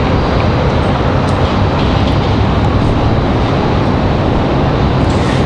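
An American Airlines Boeing 737 MAX 8 jet at Raleigh-Durham International Airport gives a loud, steady broadband roar that holds evenly throughout, with no talk over it.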